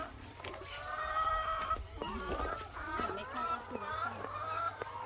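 Chickens cluck and squawk at a farmstay in Ratchaburi, Thailand, a busy overlapping flock heard close by throughout, with children and adults talking over them during egg collecting.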